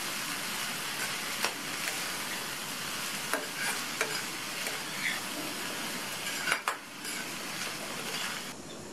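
A snake gourd and moong dal stir-fry with coconut and chopped coriander leaves is stirred in a pan, with steady soft sizzling and several clinks of a spatula against the pan, no talking.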